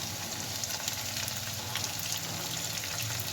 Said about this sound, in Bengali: তারপর আমি কুচানো আলুগুলোকে লাল লাল করে ভাজতে দিয়ে দিচ্ছি